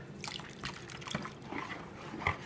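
Chicken or turkey gravy being whisked and poured into a pan for smothered chicken, giving soft close liquid splashes and trickling with small clinks over about two seconds, no talking.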